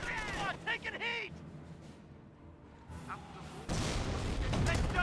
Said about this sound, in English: They're shooting at us! Enemy fire! MG squad taking heat!